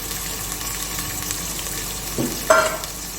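Oil sizzles steadily in a pressure cooker as two large onions are tipped in, with a brief clatter and a sharper hiss near the end.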